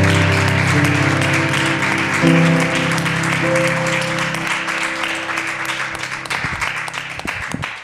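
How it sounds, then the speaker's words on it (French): Audience applause at the grand final of an ethics-themed contest, a dense steady wash of clapping that fills the whole stretch, with a low sustained hum underneath and individual claps poking through toward the end. "Je pense qu'on peut juste applaudir une fois tous ensemble Marc et Daniel pour leur travail."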